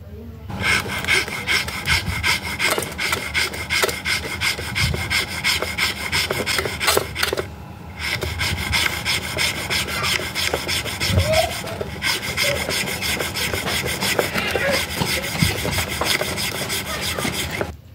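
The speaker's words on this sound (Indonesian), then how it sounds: "karena ini semen doang jadi masih bisa dipotong dengan gergaji besi" A hacksaw grinds back and forth through a plain cement block in steady rhythmic strokes, close and harsh, with one brief pause partway through.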